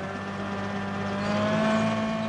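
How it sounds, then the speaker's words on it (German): A homemade wood chipper with a steel-bladed flywheel, driven by a tractor, drones with a steady mechanical hum and engine whine, continuous and fairly close, slightly building toward the end. "Der Häcksler wird von einem Traktor angetrieben."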